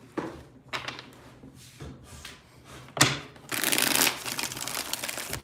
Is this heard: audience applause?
no